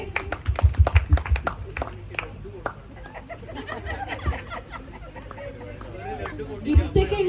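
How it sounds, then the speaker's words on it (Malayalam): Guests at a wedding sangeet night clap in a short burst of sharp, close hand claps that fade into murmuring and scattered laughter, with people talking throughout. "അപ്പൊ എല്ലാവരും ഒന്ന് കൈയടിച്ച്."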